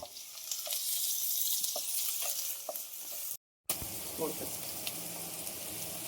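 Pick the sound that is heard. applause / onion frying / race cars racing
onion frying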